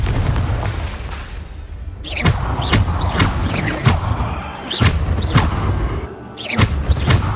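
Repeated Confringo blasting-spell explosions in Hogwarts Legacy during dragon training, sharp booming bursts with crackling tails landing every second or so over a steady low rumble of game ambience.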